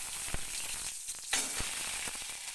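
Ginger hits a hot spice tempering in a pan, giving a steady close hiss of frying oil with a few sharp pops and crackles.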